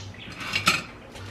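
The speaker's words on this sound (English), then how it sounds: "Let me get a big spatula." A big spatula is grabbed from among metal kitchen utensils while making a vegetarian Olive Garden-style dish, giving a short clatter of cutlery and utensils with one sharper clink near the middle.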